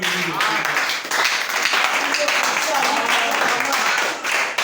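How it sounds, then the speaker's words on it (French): A church congregation applauds the pastor, a dense, steady wash of clapping from many hands filling the room, loud and sustained with some voices mixed in. "Acclamons très fort."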